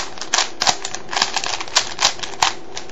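A Rubik's cube is turned rapidly through an edge algorithm, producing a brisk series of sharp plastic clicks and clacks, close and fairly loud, with no talking.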